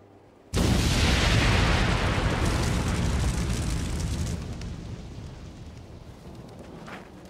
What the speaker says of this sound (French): si on le met en contact avec l'air, il provoque une explosion